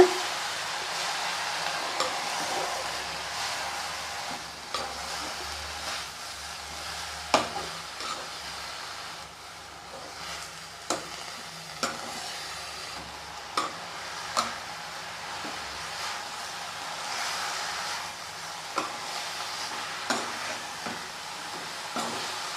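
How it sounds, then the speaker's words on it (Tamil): Fenugreek leaves fry quietly in a pan for vendhaya keerai poriyal as a spoon keeps stirring them, soft steady sizzle broken by regular sharp clicks of the spoon against the pan, no voices. "சீரை எல்லாத்தையும் சேர்த்துட்டு இந்த மாதிரி கலந்து விட்டுக்கோங்க"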